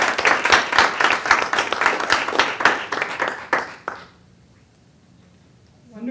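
An audience at a panel discussion applauds a panelist, loud continuous clapping from many hands for about four seconds that then cuts off into near silence.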